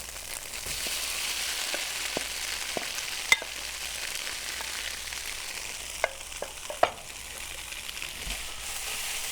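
Tofu scramble with vegetables frying in a pan while being stirred, a soft steady sizzle under scattered scraping clicks of a utensil against the pan, fairly quiet and without speech.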